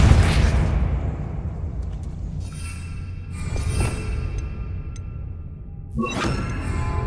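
Depulso spell impact in Hogwarts Legacy during a fight: a loud burst opens with a rumbling, explosive wash that fades, followed by a few smaller crackling hits and a sharp pop near the end.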